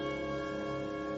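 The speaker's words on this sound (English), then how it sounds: "When you hear the musical chimes" Musical chimes ring in a radio drama of It's A Wonderful Life, a sustained, bright, bell-like tone with layered ringing overtones, loud and steady throughout with no voices over it.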